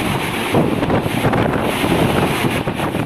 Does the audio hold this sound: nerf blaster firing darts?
no